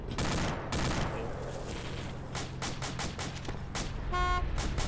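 A DShK heavy machine gun fires in the military game Arma 2, rapid loud bursts of heavy rounds cracking out over steady background rumble, with a short tonal horn-like blare near the end.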